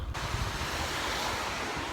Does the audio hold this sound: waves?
yes